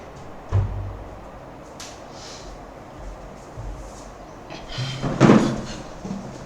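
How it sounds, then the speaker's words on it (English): An indoor door pushed shut, a dull thump and rattle near the five-second mark, with a softer knock earlier, in an otherwise quiet room. "let me close the door"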